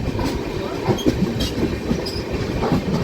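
An Intercity superfast express running from SMVT Bengaluru, overtaking another train, gives a steady, close rumble with rhythmic clickety-clack and some metallic wheel squeal throughout.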